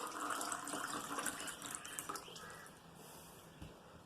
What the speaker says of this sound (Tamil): ஸோ நம்ம பியூரிஃபை ஆன வாட்டர் வந்து இந்த கிளாஸில் ஊற்றி பார்ப்போம்